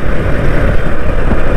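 A motorbike riding through Bhilwara city at night, its engine droning loud and close with steady rumble and rushing wind noise, no voices over it.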